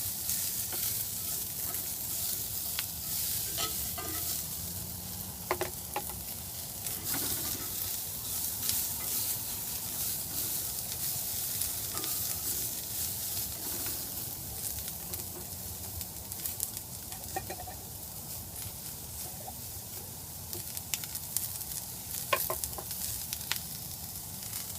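Soft, steady sizzling of potatoes and onions frying in a pan, with occasional scrapes and stirring clicks throughout; no talking.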